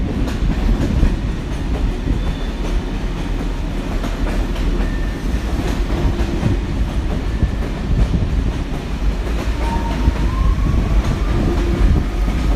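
Train set being shunted from one track to another at a French station in rain and wind, a steady rumbling roll of railcars with faint clickety-clack and occasional thin wheel squeals, continuous and fairly close.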